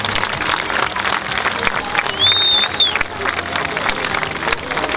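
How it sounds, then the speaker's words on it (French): A large crowd applauds steadily in open air at a civil-protection firefighting unit's open day, with a brief whistle and background voices mixed into the continuous clapping. "Vous pouvez les applaudir bien fort."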